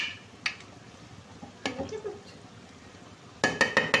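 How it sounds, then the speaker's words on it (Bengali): A spoon clinks against a cooking pot of pulao being stirred, a few scattered metallic knocks with a quick cluster of clatters at the end, fairly faint over quiet room noise. "একটু নেড়ে চেড়ে নিই"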